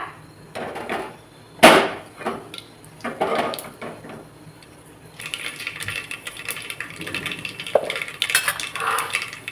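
Mustard and cumin seeds crackle, pop and sputter in hot oil, with a sharp clatter early on, then a denser burst of spluttering in the latter half.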